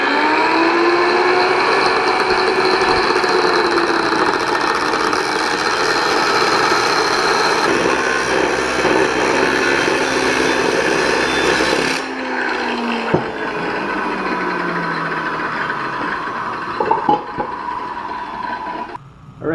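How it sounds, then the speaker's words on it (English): An angle grinder cuts into a steel railway running rail, one side being removed to shape an anvil horn, producing a loud, continuous rasping whine that holds for about twelve seconds, then drops and sputters as the cut finishes. "I reckon you've probably had enough of watching me grind."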